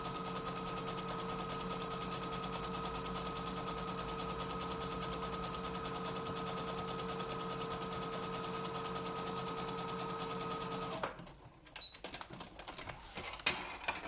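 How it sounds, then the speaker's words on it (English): A sewing machine runs a zigzag stitch along the bottom edge of a three-layer cloth face mask, a fast steady whirring hum that stops about eleven seconds in and is followed by quieter handling clicks. "I'm also going to be using a zigzag stitch to finish the bottom edge"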